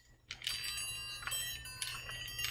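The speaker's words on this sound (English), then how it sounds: "Listen to the bells." Bright metallic bells ring out in a few separate clusters over quiet background hum, each strike leaving clear sustained tones that fade between hits.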